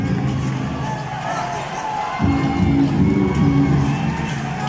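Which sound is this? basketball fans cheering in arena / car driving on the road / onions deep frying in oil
basketball fans cheering in arena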